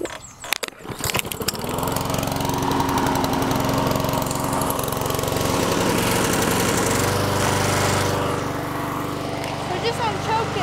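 A non-self-propelled push lawn mower's small engine is choked and pull-started from cold, firing on the first pull within a second. It then runs loud and steady close by, with a person talking over the engine noise.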